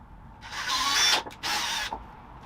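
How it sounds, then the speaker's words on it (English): Power drill boring holes into the front lip of a 2020 Toyota A90 Supra, two short close whirring bursts separated by a brief pause, heard alone. "When you drill these holes into the front lip"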